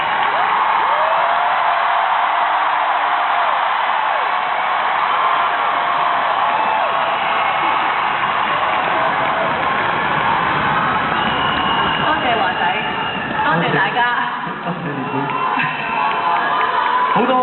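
Concert audience in a packed arena cheering, shouting and applauding steadily for a singer's guest, a loud, dense roar of voices and claps with whoops rising through it, dipping briefly near the end.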